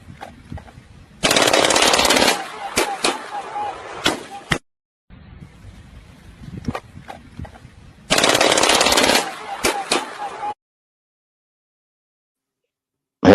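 An automatic Glock pistol dumping a magazine on full-auto: two loud sustained bursts of rapid gunfire separated by quieter clatter and handling noise, ending abruptly.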